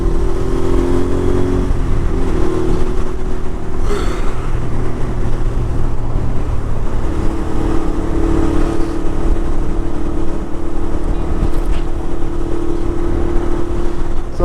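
Motorcycles on a BMW Motorrad group ride droning past continuously, a loud steady engine roar with shifting pitches as bikes go by, heavy wind noise throughout.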